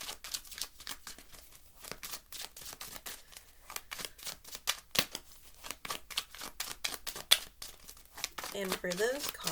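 Tarot cards drawn from a deck give quick papery flicks, snaps and rustles in an irregular rhythm, close and fairly quiet, with a voice and more handling near the end.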